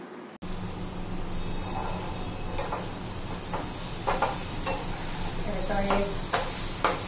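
Onion, capsicum and carrot frying for a double egg roll, a steady close sizzle with scraping and clinking of a spatula stirring in the pan, and a faint voice in the background.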